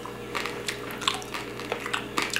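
Several close, crisp crunching bites into roast pork skin from a whole lechon, with chewing sounds, irregularly spaced, and a faint steady hum in the background.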